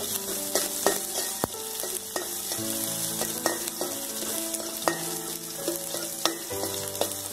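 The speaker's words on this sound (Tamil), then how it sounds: "இந்த பூண்டை வந்து நல்லா பிரவுன் கலர் ஆகும்" Garlic cloves sizzling in hot oil with curry leaves for a Chennai-style fish curry, a steady close frying hiss broken by repeated sharp clinks and scrapes of a stirring spoon against the pan.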